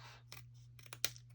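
Scissors snip fabric while trimming bedding for a miniature dollhouse bed, giving a few quiet, separate cuts over a steady low hum, with one sharper snip near the end.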